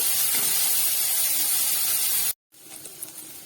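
Bitter gourd and pumpkin fry in hot oil with a loud, dense, continuous hiss. The sizzle cuts off abruptly near the end and then returns quieter, with no speech.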